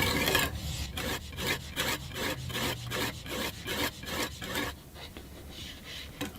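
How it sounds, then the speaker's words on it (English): Knife blade sharpened on a TSPROF Blitz guided sharpener, with quick rhythmic back-and-forth rasping strokes of the stone along the edge, close and steady, then fading to quiet. "now we can repeat that process, sharpening this side of the blade"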